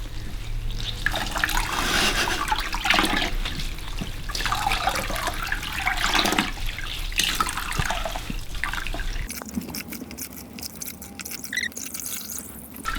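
Water poured from a bucket rinses a child's soapy hair during an off-grid bucket bath, a continuous splashing and trickling stream close by that eases into lighter dripping near the end.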